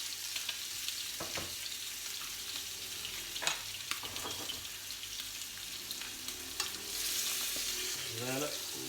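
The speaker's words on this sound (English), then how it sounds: "Get the sizzle." Chicken breast frying in a pan with butter, a steady close sizzle broken by a few stirring clicks and scrapes, swelling louder near the end, with no talking.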